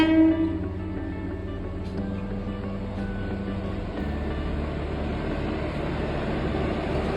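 A train engine's horn sounded by the driver as a signal while passing his home, a loud sustained tonal blast with layered pitches up front, then rumbling rail noise continuing steadily.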